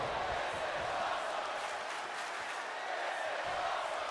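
A steady wash of arena crowd noise from the WWE 2K wrestling video game holds at a constant, moderate level throughout, a broad murmur and roar with no distinct cheers or claps standing out.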